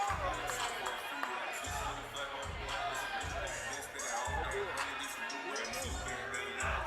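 Wrestling show crowd at Hardywood Park filling the space with a steady roar of cheering and babble, punctuated by rhythmic low thumps repeating about every second or so.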